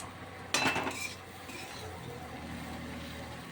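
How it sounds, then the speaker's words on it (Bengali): A spoon scrapes and clinks against a metal cooking pan as ground spice paste goes in for a Bengali vegetarian dish, one loud clattering burst that eases into a steady low background hum. "যে বাটা মশলাটা বেটে রেখেছি ওটাও আমি দিয়ে দিচ্ছি।"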